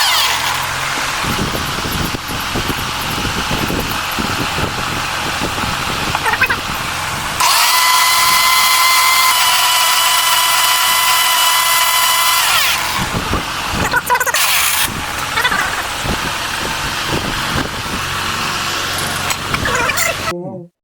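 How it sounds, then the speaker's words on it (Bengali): Kitchen blender whirring through a natural herbal paste, a loud continuous motor roar that surges louder midway and then drops back, close by, with someone speaking over it at times. "এখন আমরা আরেকটু সময় নিয়ে ব্লেন্ড করে নেব"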